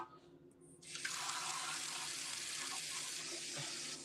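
Water from a household tap filling a dog's bowl: a quiet start, then a steady rushing stream that begins abruptly and continues evenly, fairly close and soft.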